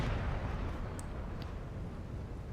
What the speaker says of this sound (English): So now the cannons, as I said, are going to do quite a bit of damage to my army